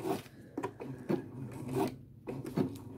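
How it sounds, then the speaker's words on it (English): A home sewing machine stitching vinyl runs in bursts with a steady rhythmic thumping and mechanical whirring, close by, briefly stopping before starting again. "I don't really recommend sewing a lot of vinyl on a home sewing machine"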